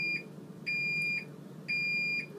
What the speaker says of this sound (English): Beeping means the spin cycle's done.